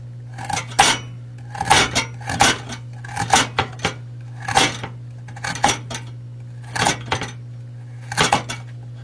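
A serrated steak knife chops through food on a board, about a dozen sharp, clacking strikes in an uneven rhythm, close and fairly loud over a low steady hum, with no talking.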